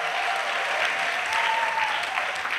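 Congregation at an annual missionaries' retreat in Côte d'Ivoire breaking into dense, sustained applause with voices acclaiming over it, loud and continuous throughout.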